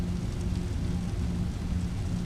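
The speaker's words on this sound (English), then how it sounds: "Rain is relentless almost." Heavy rain pours at Heathrow airport in a flight simulator game, a steady dense hiss with a low rumble underneath, constant and fairly loud with no voices.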